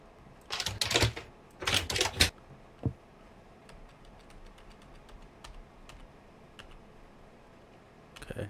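Computer keyboard keys clatter in the horror video game Locked Up, two quick bursts of rapid typing followed by a single press, a long quiet stretch, and another short burst at the end.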